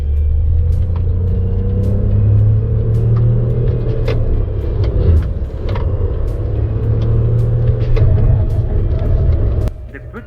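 An SAIC MG or Roewe car is driven hard on a proving-ground track, its engine droning loud and steady from inside the cabin, with brief sharp knocks over the rumble before it eases at the end.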